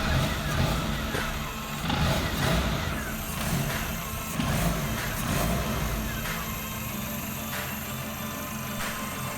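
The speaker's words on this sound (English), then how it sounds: "And give a little gas while I'm cranking. And it worked." A Suzuki Vitara 1.6 8V engine running after cranking, a steady dense mechanical rumble with slight swells as the throttle is blipped, close to the engine bay.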